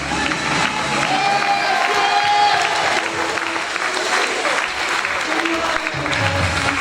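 Sustained audience applause with cheering fills a festival queen election evening at Hagetmau, held at the rotunda, with a steady dense clatter of clapping throughout and a lone voice heard briefly among the crowd.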